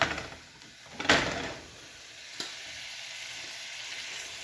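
Butter sizzles and fries steadily in a pan at close range, with a couple of brief clatters near the start over the continuous hiss.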